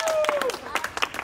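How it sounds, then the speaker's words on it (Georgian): A small group claps in quick, uneven bursts while being filmed at Batumi's 22nd school, and a voice sounds over the clapping. "ტაში!"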